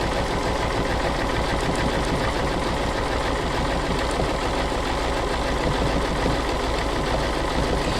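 Sewing machine stitching a quilt block in stationary stitching, a dense continuous mechanical whir with rapid rhythmic needle pulses, close and steady without pause.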